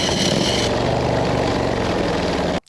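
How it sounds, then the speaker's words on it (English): A motorcycle engine, downshifted from too high a gear, drones at low revs with a rough, uneven rumble that holds steady, then cuts off abruptly at the end. "what it looks like on the bike when you downshift from too high a gear"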